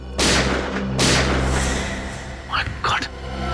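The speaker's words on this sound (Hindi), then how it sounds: "ये गोली चलने की आवाज।" Gunshots in a village crime drama scene, two loud sharp booming blasts about a second apart with reverberant tails, followed by brief voices exclaiming.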